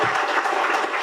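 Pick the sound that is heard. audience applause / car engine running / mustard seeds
audience applause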